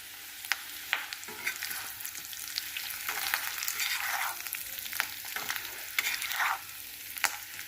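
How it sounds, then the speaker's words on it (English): Fresh curry leaves drop into a pan of sizzling roasting potato curry, crackling and popping steadily with intermittent sharp clicks of stirring, close and moderately loud with no talk. "It's time to add the fresh curry leaves, guys."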